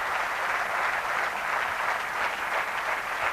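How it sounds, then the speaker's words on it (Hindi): Loud, steady applause from an audience at a motivational success seminar, a dense even wash of clapping sustained throughout without a break. "एक बहुत जोरदार तालियां"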